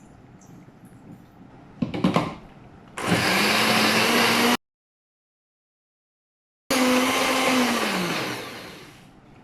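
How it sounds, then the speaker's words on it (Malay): An electric blender purees a thick chutney for thosai, with a short rattling start followed by two loud, steady whirring bursts separated by a pause, the motor pitch sagging under load and winding down at the end. "Saya nak blend."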